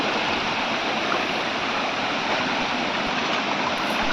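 A waterfall and stream at the Ashokjhar temple picnic spot in Jajpur pour in a steady, dense rush of water, loud and close, unbroken throughout with no voices.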